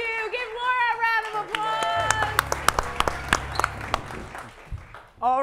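Live improvised comedy show audience breaking into loud applause and cheering, preceded by the host speaking into a microphone and swelling to a sustained burst of clapping across the room.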